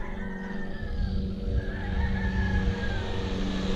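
A 1/16-scale brushless 4x4 RC truck accelerates at full throttle outdoors on dirt, its motor whining and rising in pitch with tire noise, fairly close and alone without talk.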